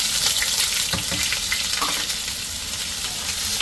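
Onions sizzle steadily in hot oil in a pan, with scraping stir strokes at intervals, loud and close with no speech.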